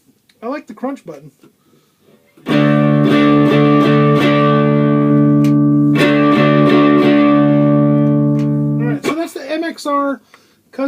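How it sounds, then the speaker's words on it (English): With the crunch mode switched on, an electric guitar played through an MXR Custom Badass '78 Distortion pedal rings out as a long sustained distorted chord under light picking. Someone talks briefly before and after it. "So it sounds good. I like the crunch button."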